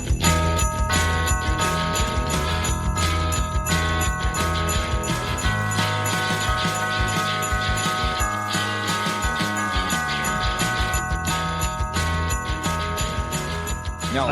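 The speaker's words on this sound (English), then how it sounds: "I did make a new theme song and it sounds like this." New podcast theme song: a dense, full music track with steady rhythm and layered bright tones, loud and continuous for the whole stretch, no speech.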